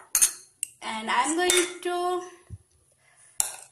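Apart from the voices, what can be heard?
mixing bitter gourd with spices and mustard oil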